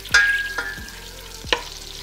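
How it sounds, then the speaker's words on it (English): Soft sizzling of butter in a pot with a few sharp metallic clinks and scrapes of stirring, fairly close and quiet. "Butter sizzling."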